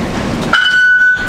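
Taipei Metro subway train departing inside an underground station, rumbling roar that suddenly gives way to a sustained high whining tone as it pulls away, loud and close.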